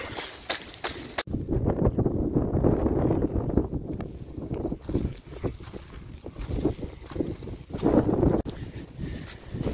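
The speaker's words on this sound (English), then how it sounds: "That's got a tailwind, it's nice. Blustery old day." Blustery wind buffets the microphone during a trail run through farmland in sika country, a loud, continuous rumbling roar that swells and gusts throughout, with footstep-like thumps mixed in.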